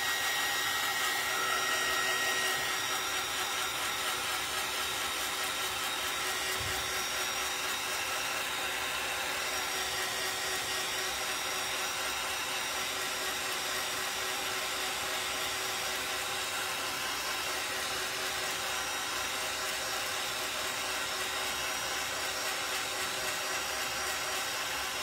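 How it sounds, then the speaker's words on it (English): A hair dryer blows steadily to dry acrylic paint on a Christmas ornament, giving a constant loud whir that runs unbroken from start to finish with no talking. "Let me dry this real quick."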